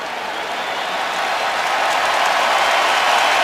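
A big stadium crowd at an NFL wildcard playoff game applauds an injured football player leaving the field, steady loud clapping and cheering that builds slightly over a few seconds.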